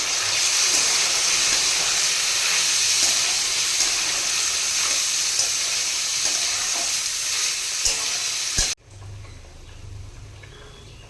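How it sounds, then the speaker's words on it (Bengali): Mixed winter vegetables with peas and green chillies being stirred and fried in a pan for a Bengali veg dal: steady loud sizzling with scraping stirs throughout, cutting off abruptly near the end to a quieter hum. "এবার সব কিছুকে মিশিয়ে ভালো করে ভেজে নেব।"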